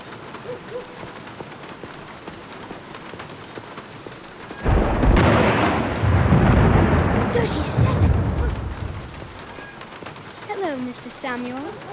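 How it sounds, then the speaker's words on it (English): Thunder and heavy rain in the video game The Black Mirror 2: a sudden loud thunderclap breaks over steady rainfall and rolls on for several seconds, while voices talk before and after. "Are you counting the thunder?"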